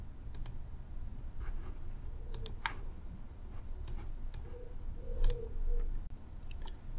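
Sharp, dry computer mouse clicks, about eight scattered singly and in quick pairs across a quiet room, fairly close and alone with no voices.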